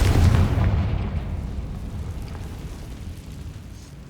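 A Confringo fire spell explodes in the Hogwarts Legacy video game, a loud booming blast that opens hard and then rumbles and fades away over a few seconds, with no voices.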